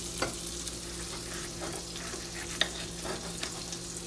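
Salmon fillet frying in a pan of mixed butter and oil gives a steady, soft sizzle throughout, with a few faint clicks and small spatter pops, no voices.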